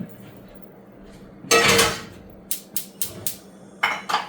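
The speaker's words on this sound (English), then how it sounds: "Get a good saute pan out." A sauté pan is pulled out and handled, giving a burst of metallic rattling followed by a series of sharp clanks and knocks close by.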